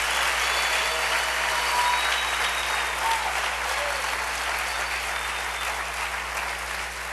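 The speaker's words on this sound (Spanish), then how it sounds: "dale un aplauso al Rey" Congregation in a church service breaks into loud, sustained applause, a thick continuous roar of many hands clapping with faint crowd murmur beneath, slowly easing toward the end.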